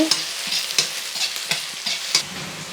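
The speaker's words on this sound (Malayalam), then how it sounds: "ചതച്ച് മൂപ്പിച്ച് കടുക് വറുത്തെടുക്കുകയാണെങ്കിൽ" Mustard seeds, crushed garlic and shallots sizzle and crackle in a hot pan while a spoon scrapes and stirs in a steady rhythm, about six strokes, with no talking.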